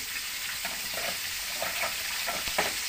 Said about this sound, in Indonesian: Tak kira gue iso goreng tongkol toh